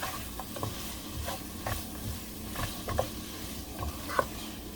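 Garlic sizzles steadily in a pan over medium-low heat, a constant close frying hiss broken by occasional soft stirring taps.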